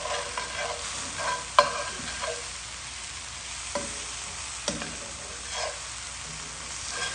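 Shrimp sizzle steadily in a pan with sauce and spices over medium heat, cooked for Shrimp Mozambique, while a spoon stirs through them with a few sharp scrapes and clicks; the frying hiss runs continuously and close.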